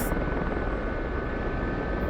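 Helicopter in a flight simulator game, a continuous loud whirring rotor and turbine drone that stays even and close throughout the short stretch, with no speech.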